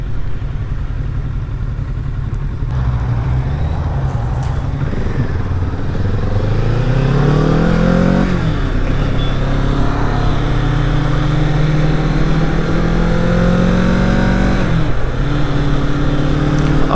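A 2021 Kawasaki Z650 motorcycle engine on a road ride, revving up through the gears with rising and falling pitch, steady and loud over wind rumble, no voices.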